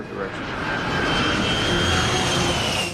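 A Boeing 747 jet airliner roars overhead, a broad loud rush with a faint whine, building steadily over a few seconds.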